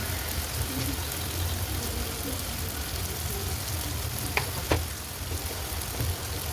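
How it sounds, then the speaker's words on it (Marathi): Finely chopped tomatoes sautéing in a pan for village-style chicken curry, a steady close sizzle with a couple of sharp stirring clicks near the end. "सो याच्यात नंतर 2 टोमॅटो घेतलेत मी बारीक चिरलेले, ते छान परतून घ्यायचे"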